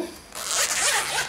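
A zipper on a yellow and blue school pencil case is pulled open in one steady, close, crisp rip lasting about a second.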